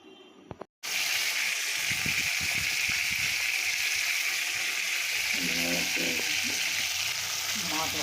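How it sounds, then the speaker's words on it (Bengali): Fish coated in turmeric and salt frying in hot oil: after a brief pause, a loud, steady, close sizzle fills the rest of the clip, with faint clinks and stirring noises underneath. "মাছ ভাজা হচ্ছে,"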